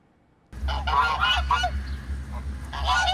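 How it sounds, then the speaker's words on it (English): Geese kept as guards at a prison in southern Brazil honk loudly and close by after a near-silent opening half second, a run of harsh calls overlapping one another, then a brief pause and another burst. "With these geese honking and waddling about, you'd think this is a park"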